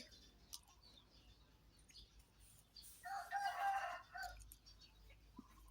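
A rooster crows once at a distance, a drawn-out call standing out from a quiet outdoor background with faint scattered bird sounds.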